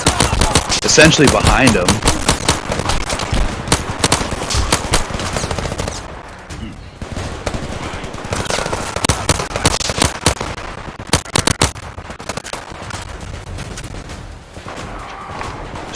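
Rapid bursts of automatic gunfire and single shots in the video game Zero Caliber during a firefight, loud and dense at first then more scattered, with a voice talking briefly over it.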